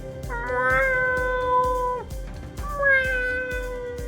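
Two drawn-out, tonal meows from a cat in the video game PennyBlood: Hellbound, each rising and falling, over a soft rhythmic thumping in the background.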